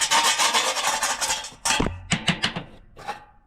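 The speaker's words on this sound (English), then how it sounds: "Got that scraped off pretty good." Rapid rasping scrapes strip an old gasket from a Rheem water heater burner assembly: a run of close, gritty back-and-forth strokes, then a few separate harsher scrapes with short pauses between them.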